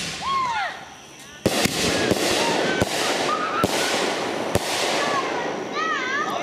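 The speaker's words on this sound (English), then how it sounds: "Trying to get 4 mortars off at the same time." Four firework mortars are lit one after another in a backyard preshow, each launching with a sharp, loud thump at uneven intervals, with whistling tails and crackle trailing between the shots.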